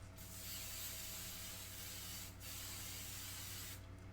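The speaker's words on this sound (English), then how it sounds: "So you hold it, and you just do a light spray." Hairspray aerosol can spraying in one long, steady hiss that fills the whole stretch, with two short breaks where the nozzle is released, held close and loud.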